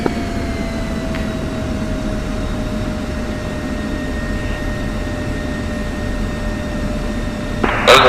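An A-10C Warthog jet idling and taxiing toward the runway in the DCS World simulator on the Syria map, a loud steady engine drone with a high turbine whine throughout and a brief clatter at the end.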